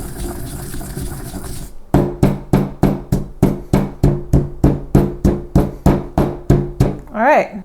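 Spices are pounded into a rough paste with a mortar and pestle, giving a steady run of about sixteen loud, close thuds at an even rhythm. Before the strikes there is a hiss, and a short voice sounds at the end.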